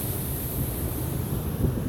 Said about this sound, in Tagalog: Grabing lalakas ng alon mga master.